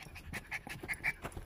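A dog pants rapidly in quick, breathy bursts close by, the rhythmic huffing steady and fairly loud, with no talking.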